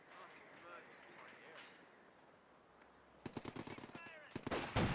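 A rapid volley of gunfire in Company of Heroes 2, with a burst of sharp, closely spaced shots breaking out after a quieter stretch of battle ambience and continuing to the end, with commentators talking underneath.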